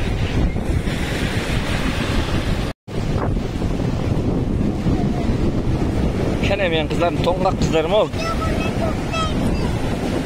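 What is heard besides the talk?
strong waves on Lake Balkhash shore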